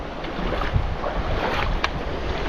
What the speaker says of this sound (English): that wind that was coming out of the southeast, bringing that storminess with it